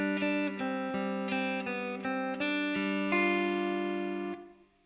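Guitar plays the second quarter of a section of a song, a run of about a dozen plucked notes ringing together in a steady rhythm, close and clear, with the final note held before fading.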